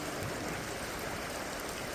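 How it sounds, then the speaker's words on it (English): Steady rain falls over a flooded gold-prospecting spot in Indiana, a constant even hiss of water with no breaks, no distinct drops, and no voices. "It's been raining steady. Still is."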